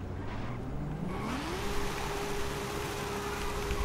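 A car in Forza Horizon 5 drives toward a drift zone, its engine note rising steadily as it accelerates and then holding a constant drone over road noise, close and alone.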